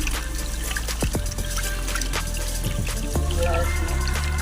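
Small fish being rinsed by hand in a bowl of water with turmeric powder, giving steady splashing and trickling close up while someone talks over it.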